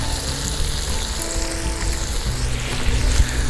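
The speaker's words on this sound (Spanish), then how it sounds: "Mientras tanto seguimos aquí con nuestro sofrito," Sofrito with tomato frying in a pan gives a steady, close sizzle and crackle throughout with a few soft stirring scrapes, no talking.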